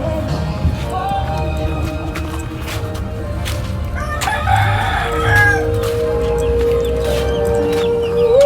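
A rooster crows in the middle of a busy outdoor scene, with other birds clucking and calling amid a steady low hum and clatter.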